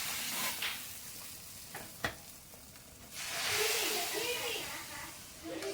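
Masala being stirred into sambar in a pan on the stove gives a soft steady sizzle with faint scraping and stirring, rising into a broader hiss partway through, with no talk.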